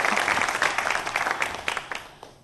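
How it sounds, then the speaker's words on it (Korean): Audience applause after a lecture, dense clapping that starts strong and slowly thins and fades toward the end. "큰 박수 부탁드리겠습니다"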